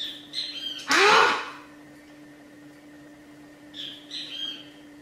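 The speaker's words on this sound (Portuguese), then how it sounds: "Tem um passarinho cantando no meu vídeo." Short bird chirps and squawks sound twice, near the start and again near the end, alongside one loud burst of a voice exclaiming in an indoor room; the bird calls are moderate and clear.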